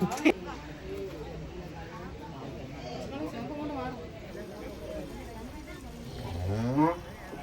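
A bull's low, drawn-out moo rises near the end, with a couple of shorter calls earlier, over steady outdoor background noise and distant voices.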